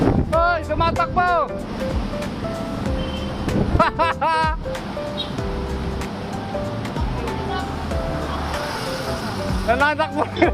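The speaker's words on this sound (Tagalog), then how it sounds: "Malakas ang hangin!" Strong wind buffets the microphone in a steady roar while riding a motorbike toward Pasig, with brief shouting voices breaking through now and then.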